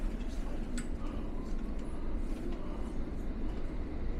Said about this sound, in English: I'm on the train now heading to Barbican